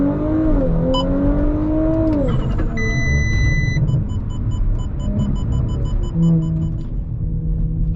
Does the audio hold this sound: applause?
no